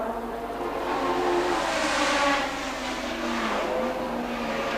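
1970 Formula One race cars at Brands Hatch, with Brabham chasing Rindt down the straight, roar steadily in a loud, sustained engine note that swells and shifts in pitch as the cars pass, with no talk over it.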